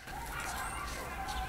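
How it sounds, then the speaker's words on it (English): A dog and local coyotes call at night in Arizona, a chorus of distant yips and howls, moderately loud and continuous over a short stretch, with no talk. "what you hear are my crazy dog and the local coyotes"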